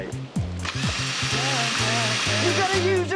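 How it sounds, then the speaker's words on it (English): A power drill whirs steadily against a boat hull, loud and continuous, with its pitch wavering as it bites in, while a background music track plays beneath. "You're going to use a drill?"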